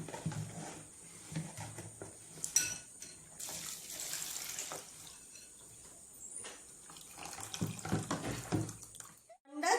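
Cooked pasta is drained in a kitchen: water splashes and gushes in uneven bursts, with light clatter of a pot or strainer. It is fairly quiet and close, and ends in a short final rush.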